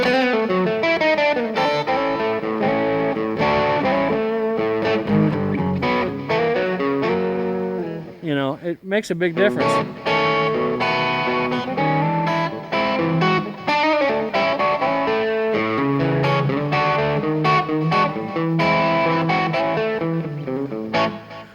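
Electric blues guitar chugs a chunky A rhythm with passing tones through heavy distortion, loud and continuous, with a short break near the middle and someone speaking briefly over it.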